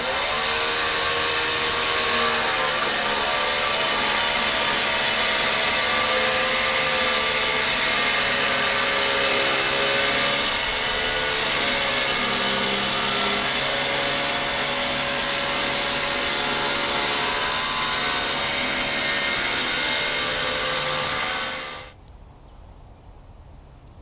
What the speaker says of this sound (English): So here's the winch pulling it from the front angle.